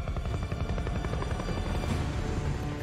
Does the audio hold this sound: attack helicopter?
yes